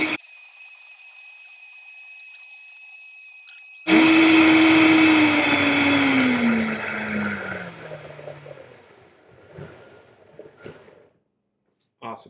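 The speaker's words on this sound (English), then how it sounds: "Then we will put this up on the blender" Blender running at full speed on oats for a vegan chocolate shake: a loud, steady motor whine that starts abruptly, drops gradually in pitch as the mix thickens, then winds down and stops, with people talking at the end.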